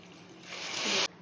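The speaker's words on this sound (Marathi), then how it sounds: "साखर मध्ये आपल्याला जेवढी साखर बुडन तेवढं आपण पाणी टाकून घेऊया" Water poured from close by onto sugar in a pan for ladoo syrup: a faint, brief hiss that swells for about a second and then stops abruptly.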